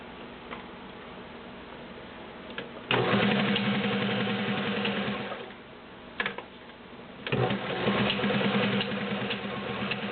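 A Kenmore Model 1813 heavy-duty sewing machine stitches through 12 layers of cotton. After a quiet start come two close, steady bursts of whirring, rapid stitching, each running a few seconds.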